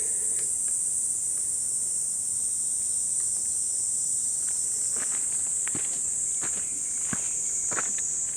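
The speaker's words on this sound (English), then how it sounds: "That is a kind of cicada." A cicada buzzes in a steady high drone on a July mountain hike near Cheonan, continuing throughout while footsteps crunch along the trail.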